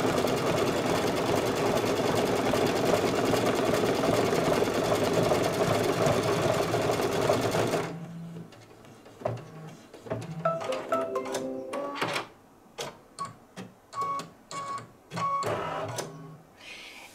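An embroidery machine hums in a steady, rapid stitching run for a bunny applique placement stitch, then stops and gives way to sparse clicks and short mechanical bursts.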